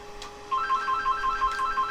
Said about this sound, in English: Oh, damn it, and it's a phone call